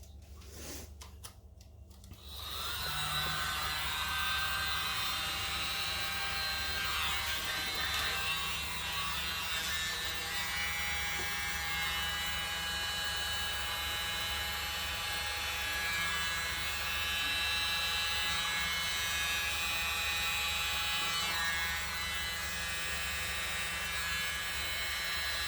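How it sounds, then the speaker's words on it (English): A small electric blower runs continuously at close range, a steady high-pitched whir after a brief handling start, with no talk over it. "I'm using my little blower tonight."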